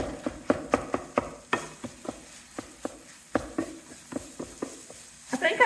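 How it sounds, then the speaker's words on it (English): Hash browns with chopped onion being stirred in a pan, giving a series of repeated scraping taps with a faint sizzle beneath, close and moderately loud, with a brief louder clatter near the end. "We'll go ahead and stir this"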